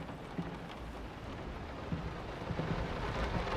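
Rain pours steadily in the 2023 horror video game Layers of Fear while low rolls of thunder rumble in the distance, building slightly toward the end, with no voices.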